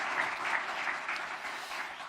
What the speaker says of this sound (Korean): 이분들 위해서 격려의 박수를 한번 더 하겠습니다.